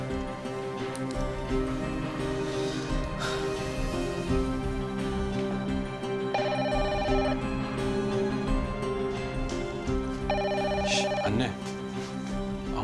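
A telephone ringing in a home interior scene from a Turkish TV drama, with repeated bursts of electronic ring tones over a background music bed and room sound.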